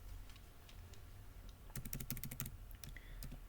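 A computer keyboard is typed on softly, with faint scattered keystrokes and then a quick burst of clicks in the middle, quiet and close with no voices.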